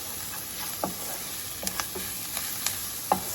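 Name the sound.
onions with spicy garlic frying in skillet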